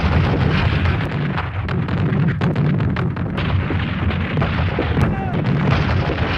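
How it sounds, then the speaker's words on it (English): Heavy, continuous artillery shelling of a city, with long-range naval gun shells landing in a dense, rumbling barrage of booms and blasts that stays loud throughout. "The shelling of the city began at precisely 7:12 a.m."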